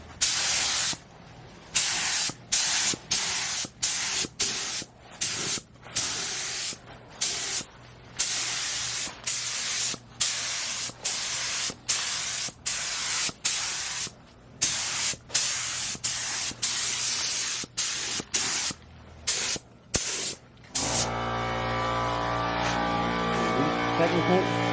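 Parts of a 2007 Suzuki GSXR 750 are spray painted: a long run of loud, close aerosol hissing bursts, each a second or so long with short gaps between, followed by a brief tonal sound at the end.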